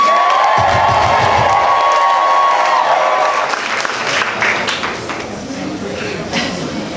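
A comedy show audience in New York applauds, cheers and shouts for a comedian in a loud, sustained wall of crowd noise that gradually thins toward the end, with a host's voice talking over it early on.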